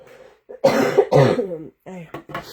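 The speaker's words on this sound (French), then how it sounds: "l'humidité, ça me fait tousser." A person coughs several times in a row, harsh and close, with throat clearing mixed in and short pauses between bursts, in a humid setting.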